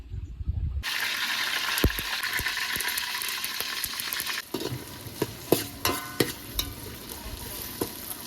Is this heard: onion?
yes